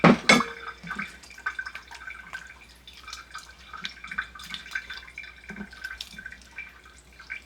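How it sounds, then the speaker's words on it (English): Cold water poured and dripping over homemade butter made from store-bought cream, a clear trickle and splashing drips at close range, with no talking. "Let's pour some more cold water."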